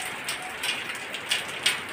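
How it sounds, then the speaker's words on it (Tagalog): Heavy rain falling on a road, a steady dense hiss with occasional louder spatters, close and constant with no other sounds standing out. "Lakas-lakas pa ang ulan."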